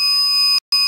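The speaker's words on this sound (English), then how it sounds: "Now even if I take it this closer, it again starts beeping" A buzzer on an anti-face-touching mask device gives out a loud, steady electronic beep, cutting off for a brief gap before sounding again, close and alone.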